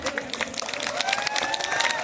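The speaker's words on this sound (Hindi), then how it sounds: "इनके लिए जोरदार ताली होनी चाहिए एक बार" At a Kumaoni stage show during the Borani Mahotsav festival, an audience claps for a performer, producing brisk, close applause with rapid overlapping hand claps lasting the whole moment, faint voices and background tones mixed in.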